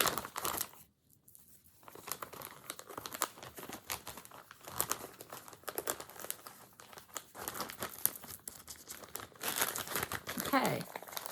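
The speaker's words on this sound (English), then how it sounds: "this is amazing, and I haven't opened it yet, so excuse the crinkle" Plastic packaging of a cross-stitch fabric kit crinkles and rustles in bursts close to the microphone, crackling on and off throughout while a person speaks.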